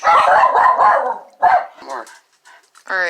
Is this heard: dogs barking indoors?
yes